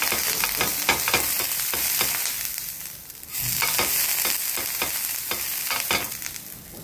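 Oil sizzles loudly on a hot tawa as a piece of eggplant greases it for patishapta pitha, a continuous bright hiss broken by repeated scraping strokes and a brief dip midway.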